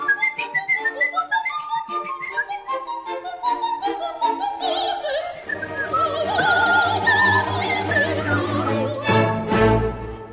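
Someone whistles a quick, agile Mozart opera aria with rapid runs and high notes, then an orchestra joins and the whistling continues over it.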